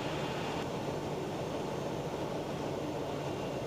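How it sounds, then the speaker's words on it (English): A turboprop aircraft engine, power eased back to flight idle on approach, gives a steady, loud broadband drone heard from inside the cabin, unbroken throughout with no talking. "We're going to start to ease the power back to flight idle."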